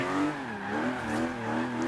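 A TVR Sagaris sports car engine in the Forza Horizon 3 racing game, held at steady revs with a smooth rising and falling drone, fairly loud and continuous with no talk over it.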